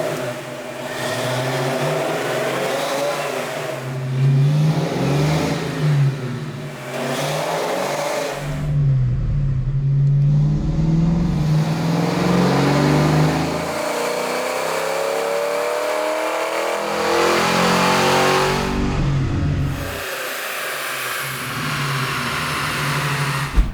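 A Florida Highway Patrol Mustang police car's engine revs hard and holds at high speed on a dyno, rising and falling through several gear pulls, loud and close.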